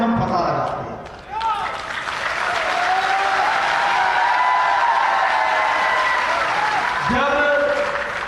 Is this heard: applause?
yes